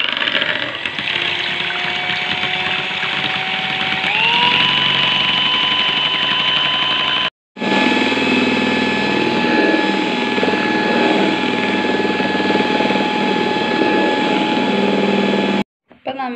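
Electric beater whisking eggs for a black forest cake, a steady close motor whine that rises in pitch partway through, stops briefly, then runs again before cutting off at the end.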